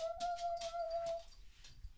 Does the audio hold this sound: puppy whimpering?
yes